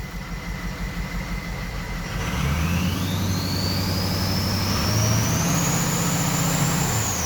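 A 6.0 diesel deck truck engine idles with a steady low rumble, rising slightly in level partway through, while a faint whine climbs steadily in pitch above it.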